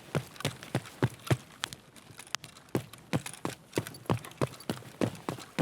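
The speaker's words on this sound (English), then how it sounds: "Heard a footstep." Footsteps in the video game Escape from Tarkov thud in a steady, quick series of sharp impacts, close and fairly quiet, with no voices over them.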